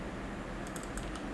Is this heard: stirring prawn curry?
no